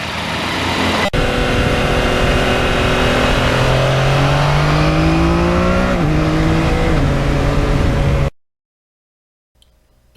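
A 2020 Yamaha MT-09 motorcycle engine revving hard and loud nearby, pitch sweeping upward through repeated climbs for about eight seconds, then cutting to near silence.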